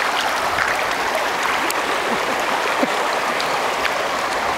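Rushing river water during a tubing run through rapids, a steady broadband wash of flowing and splashing current with small bursts of spray, fairly close and continuous throughout.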